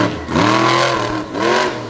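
A midget race car with a Cohen chassis and Richard Midget engine on a dirt track, its engine revving loud and close in two rising-and-falling surges, the pitch climbing then dropping as it passes.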